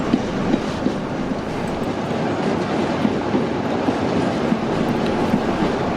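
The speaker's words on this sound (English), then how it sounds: "I can only wait for the long Tesco train to pass" A long Tesco freight train rolls steadily past, its wagons making a continuous rumble with faint rhythmic clicks from the wheels over the rail joints, close and loud.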